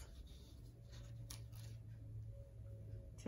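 Scissors cut small paper hearts for a handmade Thanksgiving card, making faint, soft snips with a couple of sharper clicks over a quiet room hum.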